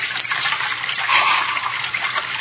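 Filthy water rushes and gushes steadily in a continuous loud wash, swelling slightly midway, with no voices.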